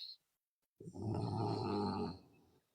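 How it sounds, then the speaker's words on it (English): Close, loud snoring from a person, a single long rasping breath with a rough, throaty rattle that swells and then fades, heard on its own without talk. "And someone is snoring."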